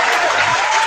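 Applause sound effect played indoors in a small room, a brief steady wash of clapping that fills the whole moment.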